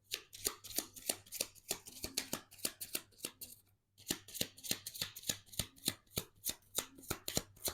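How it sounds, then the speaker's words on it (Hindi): Tarot cards being handled and drawn from a deck, a steady run of crisp papery slaps and riffles with a brief pause midway, close and moderately loud with no talking. "एक और कार्ड लेते हैं।"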